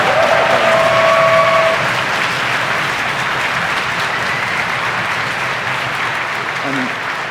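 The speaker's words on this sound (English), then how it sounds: "Just massive round of applause." Dense, sustained applause from a conference audience at PyCon UK 2022 lightning talks, loud and continuous for several seconds with a brief tonal whine near the start, easing slightly toward the end.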